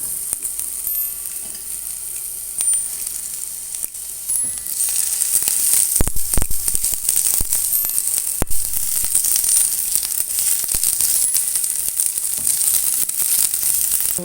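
Zucchini frying in a pan gives a steady sizzle that swells and grows denser partway through, with occasional stirring clatter, close by and without voices.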